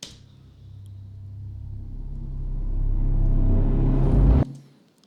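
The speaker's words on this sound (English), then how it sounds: "this music hit that's being played in reverse to act as a riser" A reversed music hit used as a cinematic riser swells slowly from quiet to a loud, dense roar over about four seconds, then cuts off abruptly into near silence.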